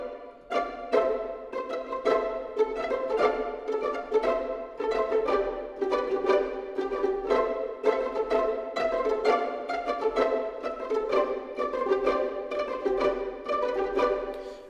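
Orchestral strings from composition software heard through tree microphones, a rhythmic passage of short repeated bowed or plucked notes with a roomy, full sound, steady and fairly loud, with no one speaking.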